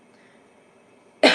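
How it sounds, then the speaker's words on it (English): A single short, loud cough from a woman getting over the flu bursts out close by at the very end, after a stretch of quiet room tone. "you guys just ignore when I cough"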